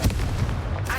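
A Confringo explosion spell cast in Hogwarts Legacy lands as a single deep, loud boom with a rumbling tail that lingers for about a second.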